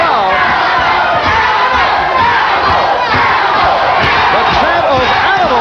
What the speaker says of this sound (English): The chant of animal from a portion of the crowd cheering on Fletcher